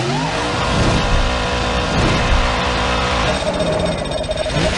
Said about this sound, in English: Joey Logano and Carlo Edwards battle for the win, which then leads to a huge crash.